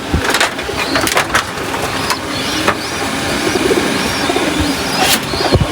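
Pigeons kept at a home loft, a male paired with females, coo low and near amid loud clattering, scraping and brief sharp clicks, with a busy, cluttered background throughout.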